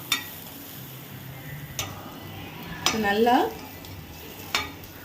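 Small onions fry in oil in a pan until golden, giving a low steady sizzle with a few sharp clinks of a spoon against metal and a brief burst of someone speaking.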